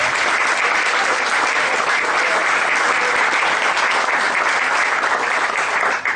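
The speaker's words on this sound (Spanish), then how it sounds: "Fuerte aplauso para ella también." A large audience at a Spanish-language book presentation gives loud, sustained applause that stays dense and even for about six seconds, with no talk over it.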